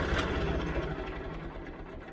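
A Massey Ferguson 50 diesel tractor runs nearby with a steady, rough, chugging idle, the pulsing rhythm holding evenly and easing slightly toward the end.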